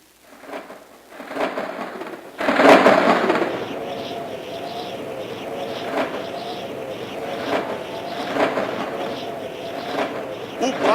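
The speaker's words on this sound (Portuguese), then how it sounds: "Foi então que começou uma terrível tempestade." Storm sound effect played during a children's Easter stage play: a sudden loud rumbling burst like thunder, followed by a sustained rushing wash of rain and wind with scattered crackles, continuing steadily throughout.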